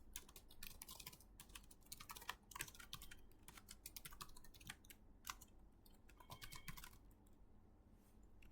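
Rapid, uneven typing on a computer keyboard while entering a short hello world command in the MeTTa language, keys clicking close and steady for several seconds with no talking.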